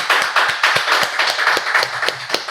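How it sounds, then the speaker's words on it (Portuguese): Audience clapping at a live talk-show recording, with distinct individual hand claps in an uneven rhythm rather than a dense roar, fairly close and loud, with no speech over it. "Então aplaudam, por favor, Silas Daniel"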